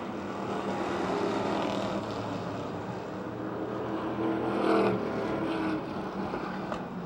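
Race cars roaring around the dirt oval at Motordrome Speedway, a continuous blended engine drone from several cars at mid distance, swelling briefly as the pack passes through the turns.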